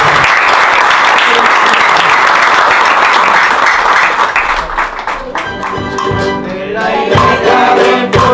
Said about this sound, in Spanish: un aplauso para ella y al carbullonero